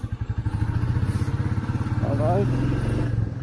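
A Royal Enfield Meteor 350 motorcycle engine thumps with a steady low, rapid pulse, close and loud on a short rainy ride, with someone talking over it.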